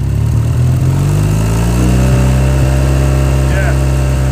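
A Triumph T140 motorcycle engine idling at barely 1,000 RPM, a steady loud low throb with regular firing pulses, running continuously and close up with no change in pace.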